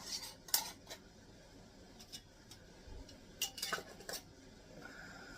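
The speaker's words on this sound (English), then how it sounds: "Now you want to put your lids and rings on. I'll tighten them all down at one time here." Metal lids and screw rings set onto hot jars of Christmas jam during home canning, giving a few faint, scattered clinks and taps in a quiet room.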